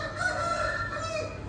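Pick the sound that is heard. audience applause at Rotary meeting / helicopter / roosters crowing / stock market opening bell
roosters crowing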